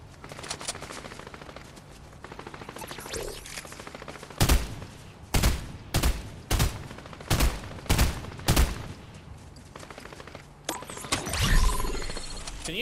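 Infantry rifle fire in a Fortnite match: about seven loud, evenly spaced single shots ring out over a low ambient game hum, followed by a burst of mechanical clatter near the end.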